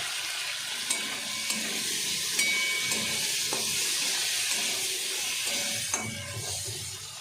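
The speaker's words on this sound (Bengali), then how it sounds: "মশলাটা ভালো করে একটুখানি আমি কষিয়ে নেব। কেটে রাখা কিছু ক্যাপসিকাম দিয়ে দিলাম আর টমেটো।" Spices frying with chopped capsicum and tomato in a pan give a steady, loud sizzle with occasional stirring clicks throughout, and no talk.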